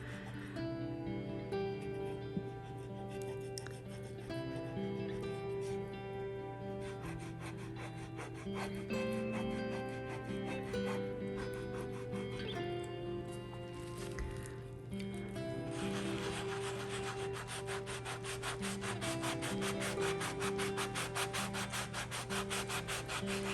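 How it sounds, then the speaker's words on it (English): Sponge rubbing over a DIY home decor piece, a soft, steady scrubbing that continues close by for the whole stretch under a layer of quiet background music. "if you're using a sponge, you're not rubbing too hard or rubbing too much in one spot"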